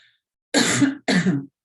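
Two harsh coughs close to the microphone, the second shorter than the first, separated by a brief pause.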